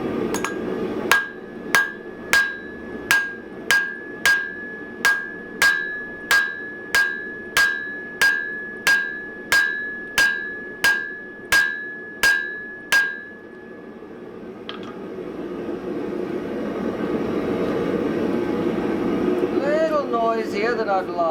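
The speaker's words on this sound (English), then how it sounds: "So let's get the forge hot and start drawing that out." A hammer strikes hot steel at a forge while drawing out a drift, about sixteen sharp ringing blows in a steady rhythm. The hammering then stops and a low forge roar carries on.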